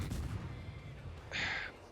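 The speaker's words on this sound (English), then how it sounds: "See the gunfire coming out of that smoke" A dull boom at the start, then a bright hissing burst midway, naval gunfire in World of Warships coming out of smoke, involving the cruiser Kutuzov, with low rumbling underneath throughout.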